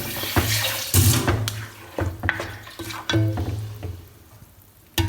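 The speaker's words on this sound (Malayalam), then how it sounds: "അതിനകത്തേക്ക് ഇച്ചിരിയോടെ വെള്ളം ഒഴിച്ചിട്ട് ഇങ്ങോട്ട് ഒഴിച്ചു" Water splashes and pours into a pot of green tomato curry in bursts, with sloshing and scraping in between and a sudden loud splash near the end, close and fairly loud, with nobody talking.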